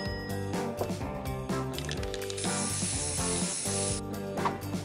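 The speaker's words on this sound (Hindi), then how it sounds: "एक स्प्रे कैन" Spray can spraying paint, a single steady hiss lasting about a second and a half that rises over continuous upbeat background music, then cuts off.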